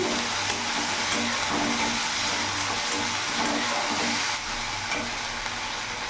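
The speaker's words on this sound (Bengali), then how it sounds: "গ্যাসের ফ্লেমটা আমি মিডিয়ামই রাখবো ভালো করে মশলার সাথে মিশিয়ে নিলাম" Tilapia frying in a pan with ginger-garlic-chilli paste over a medium gas flame, a dense continuous sizzle with rhythmic stirring scrapes, close and loud.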